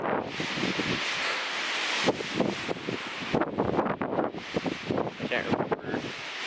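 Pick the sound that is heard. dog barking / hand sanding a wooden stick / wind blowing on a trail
wind blowing on a trail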